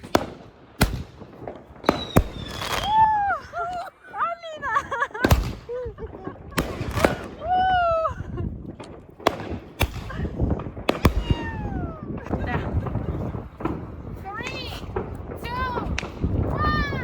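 Repeated sharp fireworks bangs burst throughout, with whistling rising streaks and crackles, while people in Russia talk and exclaim in the background.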